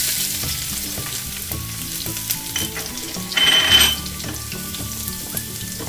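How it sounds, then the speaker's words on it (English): Garlic fries in cooking oil in a pan for mutton pasta, making a steady close sizzle with light stirring taps and a brief louder crackling surge midway. "So first I'm going to add cooking oil. Next I'm going to add garlic."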